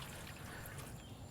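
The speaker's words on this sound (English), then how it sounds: "of my favorite beer, and I'm pouring it in, 72 ounces." Beer from a six-pack poured into a pot of water for steaming shrimp, a steady trickling and splashing stream that runs without a break, close and moderately quiet.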